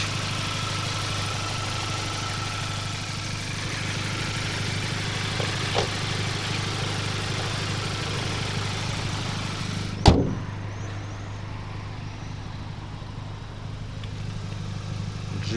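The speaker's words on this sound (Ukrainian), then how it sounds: "Ось робота двигуна." A 2020 VW Golf VII GTI 2.0 TSI petrol engine, manual, idles smoothly and steadily up close, with a sharp click or thump partway through before the idle continues.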